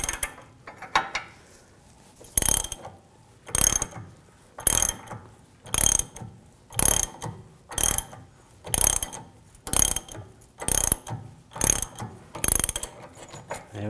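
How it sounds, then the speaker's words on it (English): A ratchet wrench tightening a bushing press on the rear control arm of a 2007-2013 BMW 328i, a dozen loud, evenly spaced ratcheting strokes, each a short burst of clicks, close up with no talking. "as I'm tightening this down, the bushing's getting pulled through"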